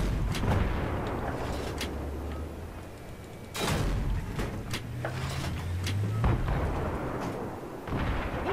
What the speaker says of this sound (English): I keep shooting a little bit too far ahead of them.